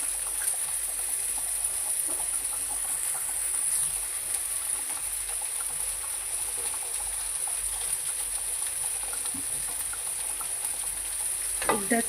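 Eight small bombil (Bombay duck) fish fry in oil on a tawa, a continuous crackling sizzle with fine pops that holds steady throughout, close and moderately loud with no talking.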